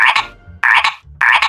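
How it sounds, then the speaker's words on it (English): A frog gives three loud, close croaks, each a short rasping burst separated by brief pauses in an even rhythm. "Let's go ahead and find out what a frog sounds like."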